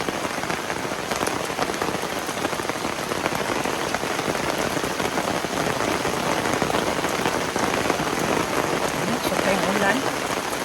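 Rain pours steadily at a highland resort, a dense, even patter on surfaces that stays loud and close throughout, with faint speech mixed in.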